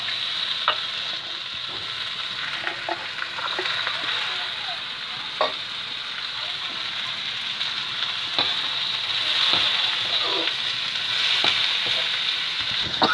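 Mushrooms and carrots stir-fry in a pan with green chili, giving a steady close sizzle punctuated by scattered clicks and scrapes of stirring, with no talking.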